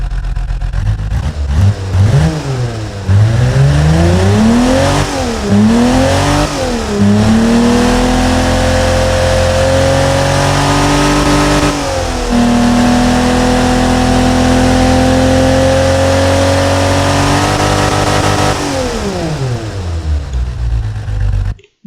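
A simulated L28-SU inline engine in the game Automation, fitted with a straight-through muffler, revving loudly through several rising and falling sweeps before holding a steady high note.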